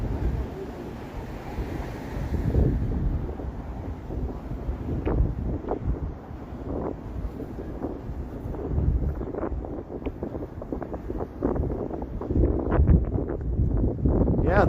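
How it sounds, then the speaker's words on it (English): Strong wind gusting between tall downtown buildings on a bitter cold night, buffeting the microphone in loud rumbling bursts throughout. "the wind was blowing crazy because guess what? We're back in the tall building area here."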